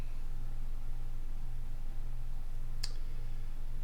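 One sharp computer mouse click sounds once, near and alone, over a steady hum of background noise.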